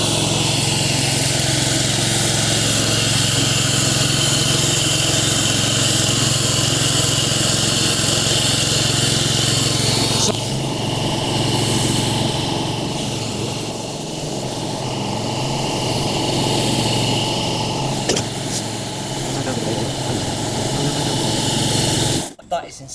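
A petrol moss clearance machine runs with a steady, loud engine drone throughout, its tone shifting about halfway, with people talking over it near the end.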